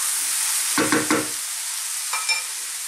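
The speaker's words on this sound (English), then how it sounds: "Give that a mix in there." Curry powder stirred into a mushroom and chickpea curry in a pan: a few quick scraping strokes close by, then a softer scrape later, over a steady faint sizzle.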